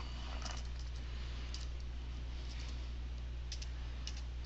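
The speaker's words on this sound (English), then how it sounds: "Just click, and I'm going to type in." Fingers type text on a computer keyboard in Photoshop, giving faint, quick, irregular clusters of key clicks over a low steady hum.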